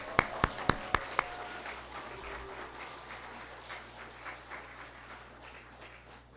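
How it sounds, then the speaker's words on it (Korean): A church congregation welcomes a speaker to a service with applause; a few sharp, distinct claps ring out first, then a soft, sustained wash of clapping continues from the crowd. "크게 박수로 환영하겠습니다"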